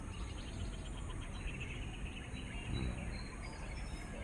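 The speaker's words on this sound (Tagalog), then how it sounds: "ang huni ng mga ibon" Faint birds chirping and twittering in the distance at a construction site, over a steady noisy background of wind or rushing air.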